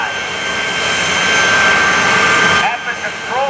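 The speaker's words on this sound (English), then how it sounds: "They are in fact 3 J-34 jet engines used on the Navy jet trainer of the 1950s, 60s, and 70s called the T-2 Buckeye." Three J-34 jet engines from the T-2 Buckeye Navy trainer power a pulling tractor, roaring loud and steady with a high whine before the roar suddenly drops near the end.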